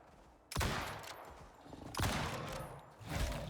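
Loud bursts of gunfire from the survival video game Icarus, three sharp volleys roughly a second and a half apart, each with a booming low tail and ringing decay between them.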